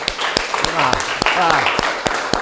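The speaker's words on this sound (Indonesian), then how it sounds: "Kasih aplaus anak-anak" Children in a classroom give a student scattered applause, with sharp separate claps while a voice speaks over them.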